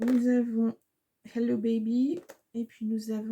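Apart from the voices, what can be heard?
No everyday noise stands out behind the speech.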